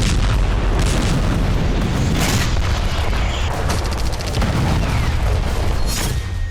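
Explosions from a rocket attack near the Israel–Lebanon border, heavy booming blasts over a constant loud rumble, with several sharper bursts scattered across the stretch.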